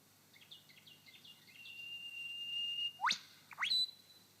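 A lyrebird in a Victorian forest mimics a whipbird: a long, thin sustained whistle followed by two sharp upward whip-crack notes, clear and alone against quiet background with soft chirps early on.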